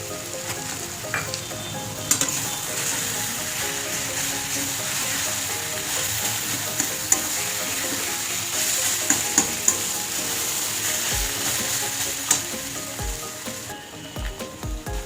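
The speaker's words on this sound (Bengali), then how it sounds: "গুঁড়ো দুধ দিয়ে ভালো করে নেড়ে নিয়েছি" Bottle gourd curry with milk powder sizzles steadily in a pan while being stirred, with occasional scraping clinks of the spoon against the pan over a continuous frying hiss.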